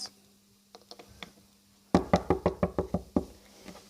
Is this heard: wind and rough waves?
no